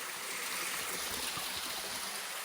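Small waterfall stream trickling down over rocks on a hillside, a steady close rush and splash of water running without pause, with no voices over it.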